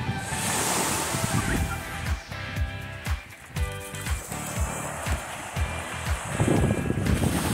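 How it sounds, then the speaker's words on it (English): Ocean surf at Puerto Morelos beach in Mexico rolls in with a steady, loud wash of waves, mixed with wind buffeting the microphone and faint rhythmic thumps. "Taff, we're at the beach!"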